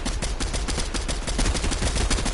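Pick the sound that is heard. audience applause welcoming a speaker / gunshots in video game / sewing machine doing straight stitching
gunshots in video game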